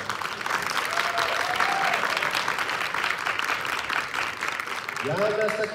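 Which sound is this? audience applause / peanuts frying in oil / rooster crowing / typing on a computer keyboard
audience applause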